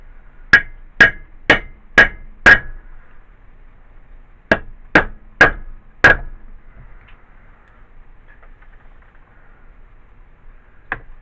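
Hammer tapping out a gasket in a shop, two sets of sharp ringing blows, five evenly spaced then four more after a short pause, followed by quiet shuffling and a single last tap.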